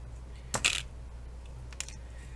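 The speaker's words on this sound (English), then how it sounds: "We're going to cut off the thread and we can move on." Scissors snip through thread after knotting a veil: two brief, sharp cuts a little over a second apart, close up over a low steady hum.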